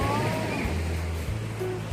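Sea waves wash onto Bang Saen beach in Thailand, a steady low surf roar with light wind noise, continuous and fairly near throughout.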